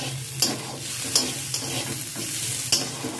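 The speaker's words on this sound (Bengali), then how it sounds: "পোস্তটাকেও আমি এদের সাথে ভেজে নেব।" Poppy seeds fry in a pan, a soft, steady sizzle broken by four or five sharp scraping strokes of stirring, close and fairly quiet with no talk.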